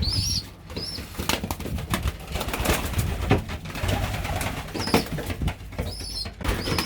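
Pigeons, including blue bar birds, coo and flap their wings in a loft, with bursts of wingbeats and soft cooing over a steady rustling background and high chirps.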